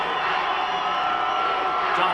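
Crowd at a high school Super Bowl football game, Mashpee against the Falcons, making a steady loud roar of cheering and shouting with an announcer talking over it.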